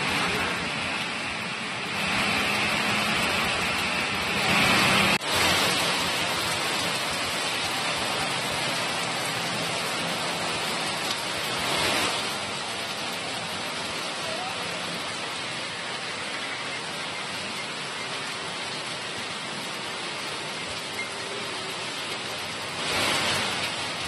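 Heavy evening rain pours steadily over Bengaluru, a dense continuous hiss of downpour on surfaces with no voices, holding near-constant loudness throughout.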